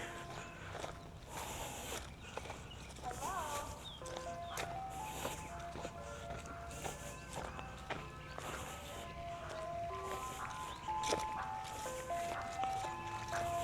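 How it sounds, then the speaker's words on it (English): An ice cream truck plays its looping tinny melody at a park, distant and faint beneath outdoor ambience, with a few footsteps and light rustling nearby. "Ice cream trucks need a different song besides just the one, in my opinion."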